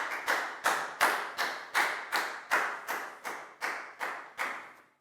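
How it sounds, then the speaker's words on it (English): A class of pupils clapping for a classmate during a Year 4 maths lesson: about eleven sharp, evenly spaced claps in a steady rhythm, close and clear with no talking. "Big round of applause for Nadia,"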